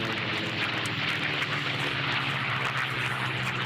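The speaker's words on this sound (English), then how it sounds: "Blondie's Brant Seghetti from Vacaville, California, the P-51 Mustang." P-51 Mustang racing in the Unlimited class at the Reno Air Races, a loud continuous engine roar held steady for the whole stretch with no speech.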